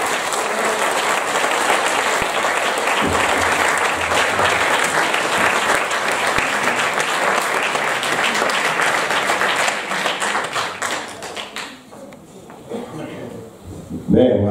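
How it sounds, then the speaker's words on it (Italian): Sustained applause from an audience at an evening celebration marking the 70th anniversary of the ANA alpine veterans' group of Caselette, honouring Cesare; dense, loud clapping that runs for about ten seconds, then thins and fades out. "Un bel applauso a Cesare."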